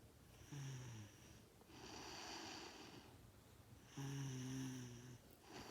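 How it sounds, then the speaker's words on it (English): A woman sleeping at night snores in slow, regular breaths, three or so rasping, buzzing pulls with quiet pauses between, recorded up close. "It's day 4 and you're still snoring."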